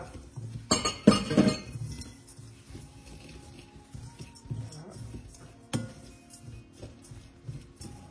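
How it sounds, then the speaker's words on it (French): Liquid ingredients for homemade flaxseed cereal bars are mixed in a bowl, with a burst of close clinking of a utensil against the dish at the start, then softer scattered taps and one more sharp clink later. "ce qu'on va faire, c'est qu'on va mélanger le liquide"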